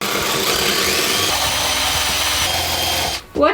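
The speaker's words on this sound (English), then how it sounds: "Let's go do the sanding." A loud, steady whir of a power sander grinding against metal, running continuously before cutting off abruptly near the end.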